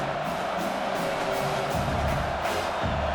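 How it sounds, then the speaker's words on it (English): Steady, dense stadium crowd roar from a simulated Ole Miss at South Carolina college football game in EA College Football 25, filling the whole moment with a constant wash of noise. "This crowd, full throat, splitting the eardrums and letting them know it's going to be a long day"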